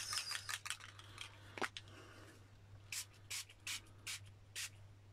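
A Dylusions shimmer spray bottle gives a series of short, crisp hissing bursts, about six evenly spaced sprays, close and fairly loud, after some earlier rustling.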